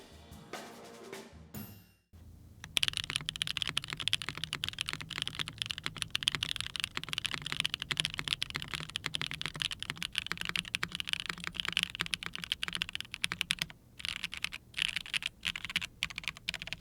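Steady, rapid typing on a Trailblazer Avalon XT 65% mechanical keyboard fitted with Oolong switches on aluminum and FR4 plates, crisp close keystrokes running continuously after a brief pause, with a short gap near the end.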